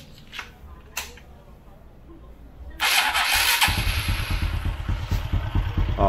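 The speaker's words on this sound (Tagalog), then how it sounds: "pandarin muna natin para malaman natin kung gumagana yung motor ko" A motorcycle engine being started to test whether it runs with a faulty stator: a few quiet clicks and clatter, then the engine catches and runs loudly, settling into a rough, steady idle.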